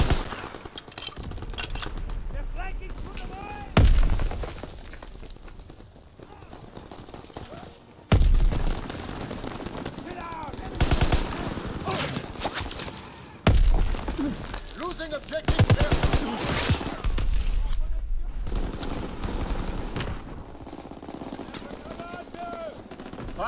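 Artillery barrage in Call of Duty WWII multiplayer Domination: heavy booming impacts land every few seconds over continuous rattling gunfire, loud and close, with voices calling out during the fighting.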